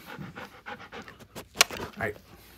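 A big dog pants close by in quick, rhythmic breaths, with a sharp click partway through.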